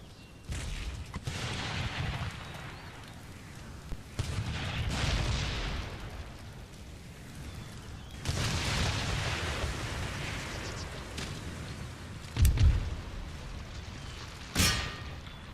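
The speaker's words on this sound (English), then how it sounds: "Those mortars are going to be brutish." Mortar artillery fire in Empire Total War during a Crimean fort assault: a run of heavy booms and blasts rolling one into another, several strong bursts spaced every few seconds with sharper close impacts near the end.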